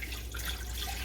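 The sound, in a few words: water being poured into a pressure canner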